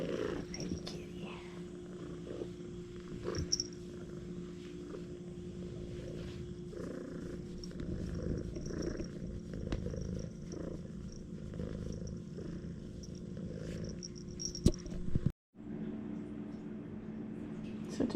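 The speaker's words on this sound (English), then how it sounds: "She's our kitten." A young kitten purrs steadily and softly up close, a continuous low rumbling hum that runs nearly throughout before a brief cutoff near the end.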